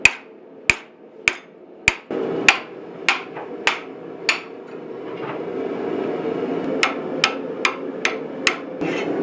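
Hammer forging of a 5160 steel dagger blank: two runs of rapid, hard, ringing blows on the anvil with a pause between them, loud and close, over a rising background roar.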